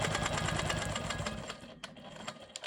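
A sewing machine quilts a straight line through a quilt block with a rapid, steady mechanical whir that runs loud and close, then slows and stops near the end.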